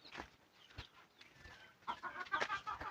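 A hen clucks softly near a nest while eggs are collected, faint and close, with rustling and a few brighter bird calls toward the end.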